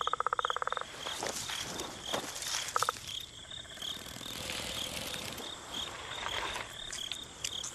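A toad croaks as it senses danger in a wild setting, in bursts of rapid pulsed calls amid a steady insect and frog chorus, some calls near and loud, others fainter.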